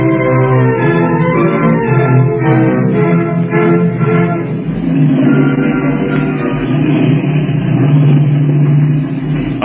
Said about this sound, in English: Idling motors turned on Floyd Bennett Field 2 days later